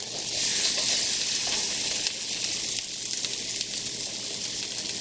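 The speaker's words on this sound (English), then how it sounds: "I don't know how long I'll sizzle them for" Steady, loud frying sizzle of cauliflower fritters crackling in a hot pan, with continuous bright hissing and a few small pops throughout.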